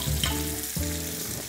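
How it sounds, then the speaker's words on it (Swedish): Steak frying in a hot pan while basted with foaming butter, thyme and garlic, a close, steady sizzle with soft spoon scrapes and bursts as the butter is ladled over the meat. "Och sen så ska man ösa då köttet med det här smöret som bildas här."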